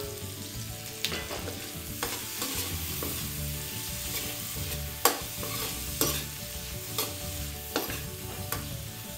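Tomato sautéed together with milkfish (bangus) in a pan, a close, steady sizzle punctuated by sharp scraping stir strokes at irregular intervals, with no voice.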